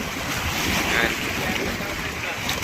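Ocean waves surging around a small boat built from plastic drums at sea, a constant loud rush of surf mixed with heavy wind buffeting the microphone.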